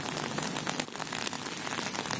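Heavy November rain pours down outdoors on a city street near a bus stop and flowerbeds, a dense, steady, close patter with no voices.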